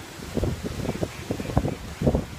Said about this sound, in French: Et il y a beaucoup de vent aujourd'hui, j'espère que vous m'entendez.